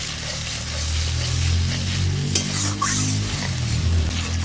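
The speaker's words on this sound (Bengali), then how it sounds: "মশলাটাকে আমি নেড়ে চেড়ে নিচ্ছি।" Spice paste for a Bengali pabda fish curry cooks in a frying pan, a steady sizzle with a low rumbling bubbling underneath and occasional scrapes as it is stirred, close and fairly loud.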